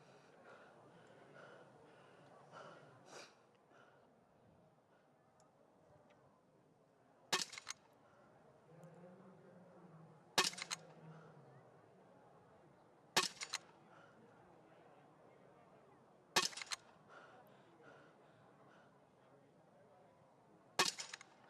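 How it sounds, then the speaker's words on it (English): Rifle shots ring out at the para biathlon shooting range during the Beijing 2022 10km standing race, five sharp, evenly spaced cracks at a distance with a quiet background murmur between them. "Clean in the first and the third visit to the range for Li."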